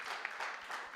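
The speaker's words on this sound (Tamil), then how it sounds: "ஏன்னா அவருக்கு உண்மையிலே கைத்தட்டி ஆகணும் எல்லோரும்" Audience clapping at a film press meet in Chennai, a brief burst of dense, steady applause from a gathered crowd, fairly close and without voices on top.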